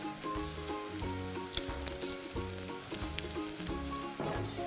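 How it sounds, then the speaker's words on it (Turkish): Peppers, garlic and onion sauté in a pot for a tomato-based Muğla-style meat braise, giving a steady, close sizzle for the whole stretch with a rhythmic tonal backing and a few sharper crackles. "Takrak biberlerim, sarımsağım ve soğanımla birlikte kavuruyorum, kavurmaya devam ediyorum."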